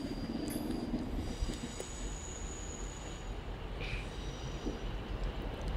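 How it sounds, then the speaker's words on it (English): Class 142 Pacer diesel passenger trains rumble past at Manchester Piccadilly station in a steady, continuous roar, with faint metallic squeals rising briefly above the low drone. "the two class 142 Pacer trains going"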